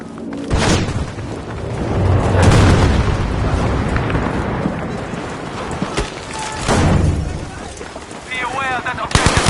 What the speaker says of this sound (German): Aufpassen! Granate kommt!